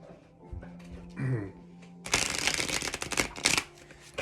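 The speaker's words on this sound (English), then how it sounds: "I'm going to get really into the shuffling here" Tarot cards get shuffled by hand, a few soft slides and taps first, then a dense crisp riffling flutter that rattles on steadily near the microphone for about two seconds.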